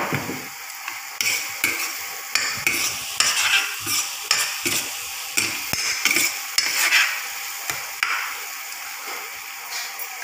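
Cut potatoes fry in a hot pan with a steady sizzle, while a utensil stirs and scrapes against the metal in repeated close clicks and scuffs.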